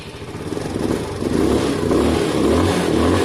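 A Sinnis Harrier 125 motorcycle engine, running after an exhaust clean with its carburettor being tuned, revs up close and loud with a rough, pulsing drone that rises and holds; no talking.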